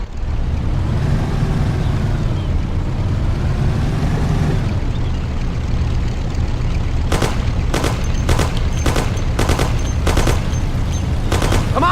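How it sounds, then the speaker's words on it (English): Thompson submachine gun bursts ring out in the Mafia video game during a car chase. An engine drones steadily first, then several short, loud rapid-fire bursts crack over the continuous motor noise. "Take my Thompson. You and Sam shoot them."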